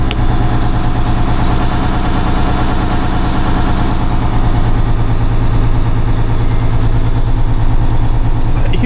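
A truck engine idles steadily and loudly up close, a continuous low, rhythmic chugging that holds an even pace throughout with no voices.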